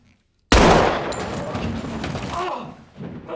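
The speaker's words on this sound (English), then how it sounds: "They're gonna shoot him, huh?" Gunfire from a Breaking Bad TV scene erupts suddenly after a moment of silence, a loud close burst that tails off into a few seconds of rumble and ringing, with voices faintly behind it.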